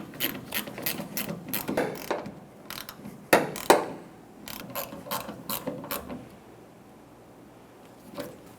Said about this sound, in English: With all of the bolts installed, go around and snug them down.